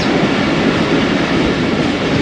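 The Khyber Mail train rolls past Multan's abandoned railway station in cold, foggy weather, giving a loud, steady rumble and rattle of wheels and carriages that continues without a break.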